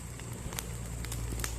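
Crackling campfire burning outdoors at midday in a rural garden, a steady bed of small snaps and pops with a low rumble underneath, fairly close and continuous.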